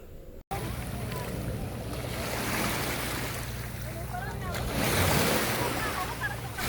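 Ocean waves wash continuously onto the beach shore at a Batangas beach resort, with wind buffeting the microphone and the surf swelling louder toward the end.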